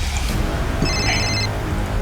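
A telephone rings with steady repeated electronic trills over a low background hum, fairly clear and close, with no talking.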